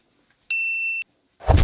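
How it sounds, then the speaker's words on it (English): A bright notification bell dings once with a clear ringing tone that sustains for about half a second and cuts off sharply, followed by a short burst of louder broadband noise. "don't forget to click that little bell so that you get notified"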